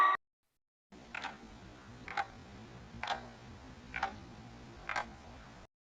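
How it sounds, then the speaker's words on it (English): A clock ticks steadily, about one tick per second, faint and close, over a low background hum. "C for clock."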